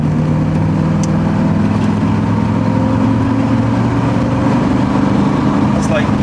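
Porsche 928 engine running at part throttle while not fully warmed up, a loud, steady drone with a continuous low hum that persists throughout.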